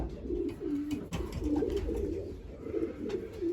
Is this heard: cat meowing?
no